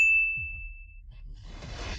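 A notification bell gives a single clear, sustained ding that rings for about a second and fades, followed by a low rumble and rising soft noise.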